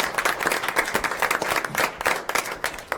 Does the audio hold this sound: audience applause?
yes